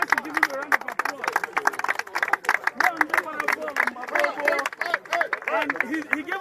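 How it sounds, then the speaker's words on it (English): A crowd at a community football tournament kickoff claps in a busy, irregular patter mixed with cheering and chatter, the hand claps dense and fairly close throughout. "I want you guys to give him a round of applause"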